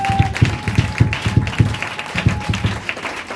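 A church congregation clapping in steady rhythmic unison, about three claps per second, close and full, with a faint sustained tone underneath.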